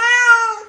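A Bengal cat gives one loud, clear, drawn-out meow close by, steady and slightly falling in pitch.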